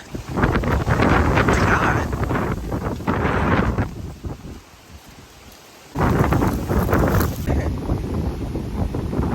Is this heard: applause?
no